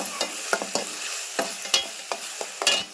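Food with tomato frying in a pan hisses steadily up close, punctuated by a quick series of spatula scrapes and taps.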